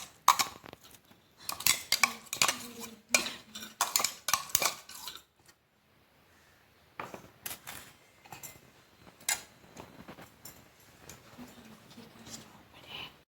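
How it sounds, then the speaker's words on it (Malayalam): Crushed masala being stirred into chicken for a Malappuram-style chicken fry, close irregular clinks and scrapes of a utensil against a dish in bursts, a brief quiet pause, then lighter scraping. "ഇനി അതിലേക്ക് ചതച്ചുവെച്ച മസാല ചേർത്ത് നന്നായി ഇളക്കുക."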